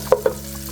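Onions being stirred in a pot: two quick scraping knocks of a utensil close by, over a faint steady sizzle.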